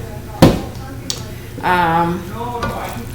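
Onions sauteing in a pan on a cooking stage, a steady sizzle with a few sharp clatters of the spoon against the pan, while a voice talks over it.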